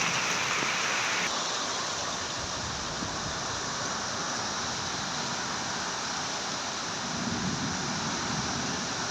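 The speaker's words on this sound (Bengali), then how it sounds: "মাশাআল্লাহ, বৃষ্টি হচ্ছে শরীয়তপুরে, আমাদের শরীয়তপুরে এই মুহূর্তে বৃষ্টি হচ্ছে।" Steady rain falls in Shariatpur, a dense, even hiss of drops on surfaces that continues without pause, close and fairly loud, with a windy, gusty feel and no voices.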